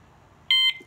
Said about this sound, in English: press this button until you can hear the third beep sound